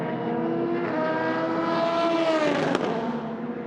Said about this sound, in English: that's the LMP2 car coming by the 25 car.